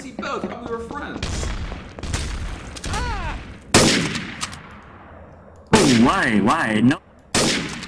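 Gunfire in a video game match, with bursts of shots, a sniper's cracks and booming impacts in loud separated volleys, mixed with lively voices talking and shouting over the action.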